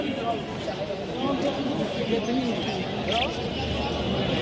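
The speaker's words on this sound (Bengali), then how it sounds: "খুবই সুন্দর দেখুন বাজিগার।" Budgerigars and other caged birds at the Meradia bird market chatter with faint, scattered chirps beneath a steady din of nearby crowd voices and market bustle.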